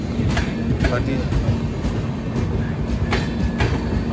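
The Mandovi Express runs on the Mumbai–Goa line, a loud rolling rumble with regular clickety-clack beats of wheels over rail joints, heard from inside the moving train with voices faintly mixed in.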